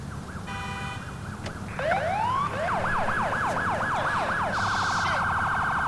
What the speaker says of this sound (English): This is my siren.